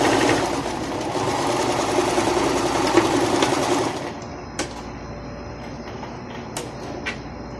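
A sewing machine runs steadily, stitching a zigzag seam on a pillowcase, loud and continuous for about four seconds before stopping, followed by a few faint clicks and handling sounds.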